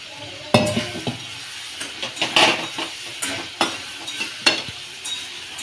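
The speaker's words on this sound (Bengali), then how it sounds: "চিংড়ি মাছ ভাজাগুলো দিয়ে দিলাম।" Fried shrimp are tipped into a pan with jackfruit, then stirred with a metal utensil, giving close, sharp scraping and clinking strokes in an irregular rhythm over a steady low sizzle.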